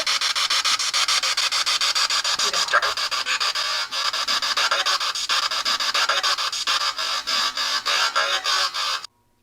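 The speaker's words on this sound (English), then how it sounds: "Sorry, I got distracted because Lacey barked at the door." A dog panting steadily and rapidly, close and loud, for several seconds before stopping abruptly.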